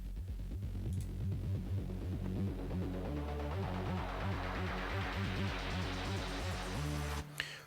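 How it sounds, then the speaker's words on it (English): A synthesizer riff from a self-made Serum patch built on a saw wave: a steady, pulsing bass-heavy sequence with repeating rhythmic notes, buzzy and throbbing, played alone with no talk. "This is just the riff programmed into the synthesizer."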